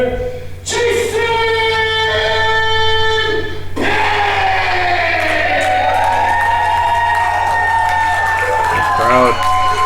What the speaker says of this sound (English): Crowd obviously showing who they're rooting for tonight.